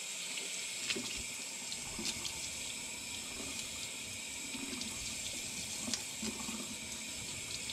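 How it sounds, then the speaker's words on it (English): Water runs steadily from a tap into a wash bin as celery is rinsed, a constant hiss with a few soft splashes and knocks of stalks against the bin. "part of this video is me figuring out the best way to wash the celery"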